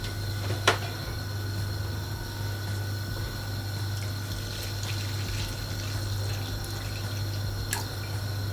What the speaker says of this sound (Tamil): கூடவே மீதி இருக்கிற பாலை சேர்த்த போறேன்.